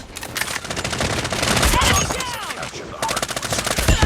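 A three-line rifle fires in a video game shootout, close and sharp, mixed with rapid bursts of other gunfire from a dense battle. Voices speak briefly amid the shots.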